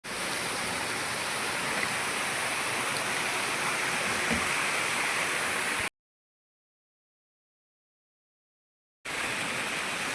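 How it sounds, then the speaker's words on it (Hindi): A small mountain waterfall beside a hillside home, swollen in the rainy season, gives a steady, loud broadband rush of falling water with no voices. The sound cuts out completely for about three seconds, then the rush returns. "ये पीछे दिख रहा है झरना दोस्तों,"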